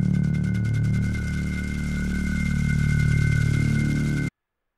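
A synthesized shaker texture built in SuperCollider, its noisy bandpassed grain running steadily over a sustained sawtooth-like drone with bright fixed tones, evenly loud throughout before cutting off abruptly near the end.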